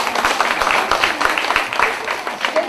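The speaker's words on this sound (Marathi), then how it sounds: "यांच्यासाठी जोरदार टाळ्या होत्या" Loud applause from a crowd greeting a contestant at a Nagpanchami village competition in Satara, steady dense clapping lasting a few seconds.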